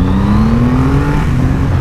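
Loud, close Triumph Rocket 3 motorcycle engine droning as it accelerates, its pitch rising steadily across the whole stretch, with wind rush and no talking.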